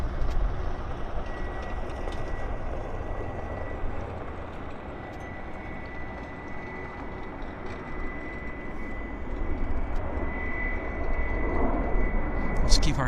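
Airliner on the north runway at Vancouver Airport, a steady broad engine roar with a faint thin whine running through it, swelling slightly toward the end.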